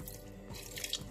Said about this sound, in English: I'm going to add some water and allow this cook